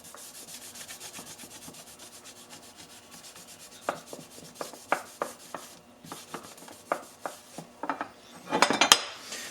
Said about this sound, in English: Now we're going to go with our heavy duty rubbing compound number 7. And just wipe off all the oxides that are left.